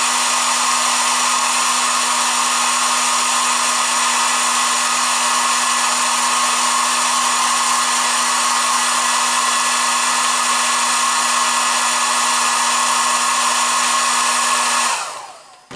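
A hair dryer blows steadily at close range with a constant whirring hum, running alone for about fifteen seconds before switching off.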